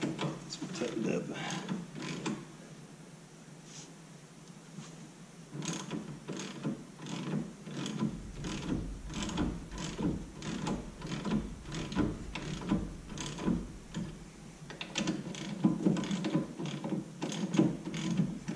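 A 12-point half-inch socket ratchet tightening brake bolts during a Wilwood brake install on a C5 Corvette, with repeated clicking pawl bursts up close, loud and mechanical.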